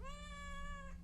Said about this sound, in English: Meow into the microphone.